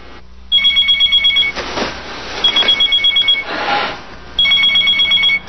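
A telephone rings in repeated electronic trilling bursts, three clear ring cycles separated by short pauses filled with faint room noise, loud and close.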